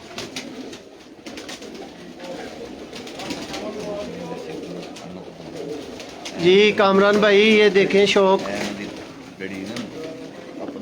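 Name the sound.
pigeons cooing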